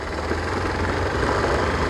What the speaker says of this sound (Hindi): बाइक निकाली जा रही है।